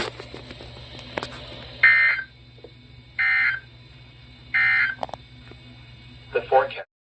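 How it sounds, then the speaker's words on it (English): A Weather Radio public warning alarm tone sounds during a required weekly EAS test, a loud electronic beep repeating in four separated bursts with short gaps between them. "the National Weather Service has just activated the public warning alarm tone in the test"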